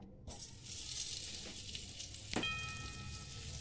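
Butter melting and sizzling in a pan at the start of a white sauce, a steady close frying hiss after a brief quiet start, with a faint clink partway through and no talking.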